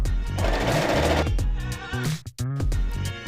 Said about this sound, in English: Make sure I'm lined up with 5/8 of an inch seam allowance and sew to that last dot.